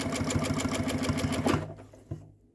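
A sewing machine stitches in a steady, even rhythm for about a second and a half, then slows and stops with a last brief burst.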